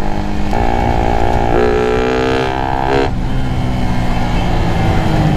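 An idling motorcycle fitted with a 34mm throttle body gives a steady, loud, close mechanical hum with a tonal drone that rises in pitch midway, then settles back to an even idle.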